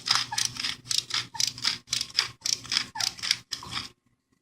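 Pepper is ground into a pot for a sweet and savory bobotie: about a dozen quick, crisp grinding bursts come in a steady rhythm, close by and fairly quiet, then they stop.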